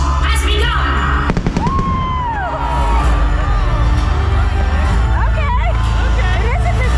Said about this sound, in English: It is a Disney fireworks show.